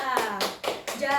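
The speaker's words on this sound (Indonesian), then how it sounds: "beri tepuk tangan untuk Anissa" Classroom clapping for a student, four short bursts of hand claps in quick succession, close and moderately loud.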